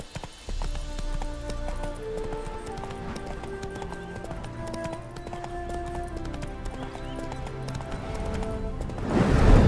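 Horse hooves clip-clop steadily in a Witcher-style video game, the horse Roach trotting close and clear over layered music, with a brief whinny-like swell near the end.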